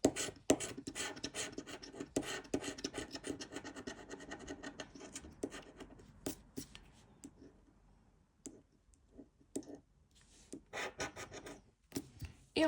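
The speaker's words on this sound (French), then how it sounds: "Il reste un peu plus de 10 tickets à gratter ensemble." A coin or fingernail rubs rapidly across a Morpion scratch-card lottery ticket, close and dry, in quick rasping strokes that pause and resume several times.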